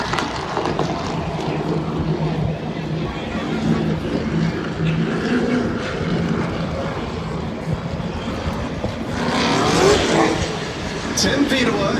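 Race cars roar around Stafford Motor Speedway in an SRX race, a continuous loud blend of engine noise that swells as cars pass, with a voice talking over it.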